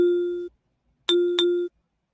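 Two sustained pitched tones form a simple rhythm pattern on a rhythm-practice website: one long note, a pause, then a second long note with a quick re-attack partway through, clean and electronic with no talk.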